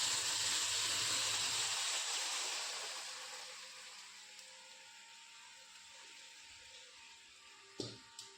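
A pot of drumstick-leaf kuzhambu with lentils, freshly tempered with chillies, simmering on the stove: a steady steam-like hiss and bubbling that is loud at first, then settles into a quieter simmer with a couple of faint clicks near the end.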